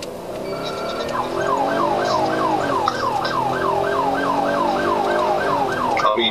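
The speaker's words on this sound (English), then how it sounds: "The officer turned on the sirens and pulled the vehicle over" A loud wailing police siren rising and falling in a fast, steady cycle, close by and continuous throughout.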